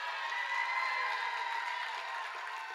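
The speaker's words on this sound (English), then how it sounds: "a round of applause for the hometown boy" Audience applause at a gala fundraising auction, a steady, fairly faint wash of clapping from a crowd lasting a few seconds without pause.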